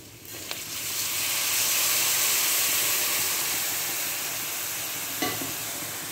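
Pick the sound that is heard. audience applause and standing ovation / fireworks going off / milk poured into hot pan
milk poured into hot pan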